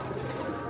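Pigeons murmur with low, continuous cooing at a rooftop pigeon loft, a soft and steady bubbling that fills the short moment without any voices.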